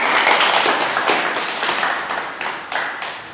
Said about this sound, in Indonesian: Tepuk tangan dulu sama dia.